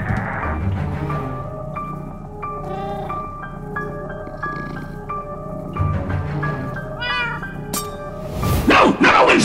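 A cat in the video game Minecraft Story Mode gives repeated drawn-out meows and yowls, several calls in a row over background music, ending with louder scuffling noises.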